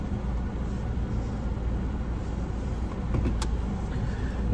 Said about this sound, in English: just got inside the car